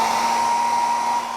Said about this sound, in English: A humble hairdryer, one of Jon's secrets